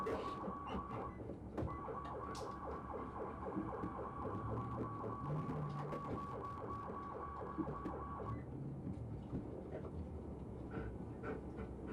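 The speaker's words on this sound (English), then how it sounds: "that the siren is active at that point." An emergency vehicle siren wails steadily through played-back footage, its repeating tone running for about eight seconds before cutting off, mixed with a busy background of traffic and ambient noise.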